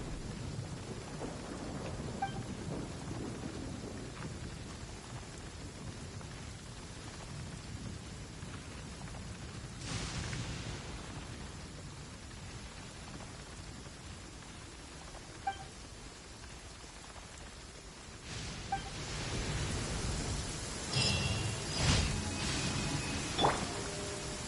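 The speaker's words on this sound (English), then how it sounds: "It's like no matter where you go in Fontaine, it's always raining." Steady rain falls across the rainy region of Fontaine in the video game Genshin Impact, a soft continuous wash with occasional distant rumbles of thunder building toward the end, no voices over it.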